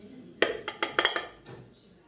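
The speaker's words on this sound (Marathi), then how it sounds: "तांदूळ टाकून घेते" Uncooked rice is tipped into a pot of boiling water in a home kitchen, a short run of close clattering and clinking pot sounds, four or five quick knocks, with no talk.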